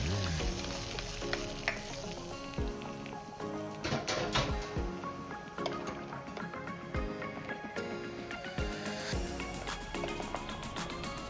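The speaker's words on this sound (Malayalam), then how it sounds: "ഇനി ഇതിലോട്ട് കടുക് പൊട്ടിച്ചതും ചേർത്ത് ചെറുതായി ഒന്ന് തിളപ്പിച്ചെടുക്കാം" Spluttered mustard seeds go into a simmering Kerala-style chembu asthram, a taro curry, with a soft crackle and stirring strokes beneath steady tonal background music.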